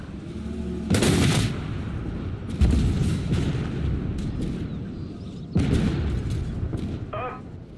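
Cannon fire from a Challenger tank in Armored Warfare: a few heavy booming shots, loud and close, each followed by a rumbling decay over continuous engine and battle noise.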